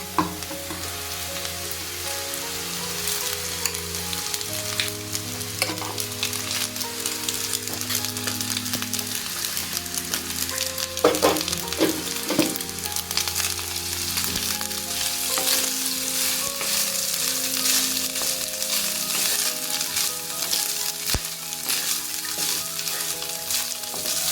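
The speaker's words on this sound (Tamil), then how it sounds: "ரைஸ் போடும்போது கொஞ்சம் கொஞ்சமாக போட்டு கிண்டி விடுங்க." Cooked rice stirred a little at a time into a sizzling carrot mixture in a pan, with continuous frying crackle and repeated scraping of the spoon over a sustained background tone, no talking.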